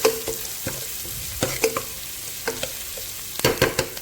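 Green chillies stir-fried with ginger garlic paste for chicken biryani, a soft sizzle under repeated scrapes and knocks of a spoon against the pan, close and irregular.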